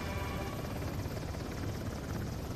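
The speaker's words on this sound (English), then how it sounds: "The chopper's right above me." Helicopter hovering overhead in the video game Uncharted: The Lost Legacy, a continuous low rotor thrum with throbbing chop, loud and close, heard alone throughout.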